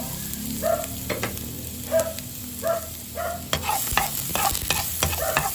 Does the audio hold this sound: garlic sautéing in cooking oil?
yes